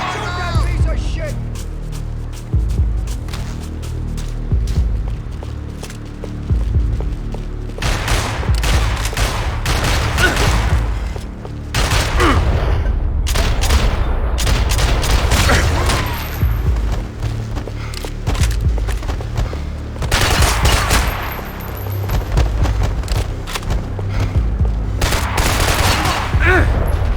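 Gunfire in the Max Payne 3 video game: repeated loud bursts and volleys of automatic shots with thuds and clatter, spread across a long action sequence, with voices talking between and over the shooting.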